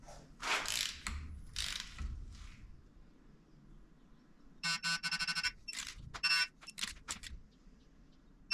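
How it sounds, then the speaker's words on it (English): A torque wrench ratchets in short clicking bursts while tightening bolts on an LS engine, with a couple of quick clicks early on, then a longer run of rapid clicks later, crisp and near in a quiet space. "Torque these down to 25 foot-pounds."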